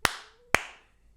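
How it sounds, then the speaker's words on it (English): Two sharp hand claps about half a second apart, close and loud, made to sync recording, each with a short ringing room decay and otherwise quiet surroundings. "I'll clap to sync it at the end if we need."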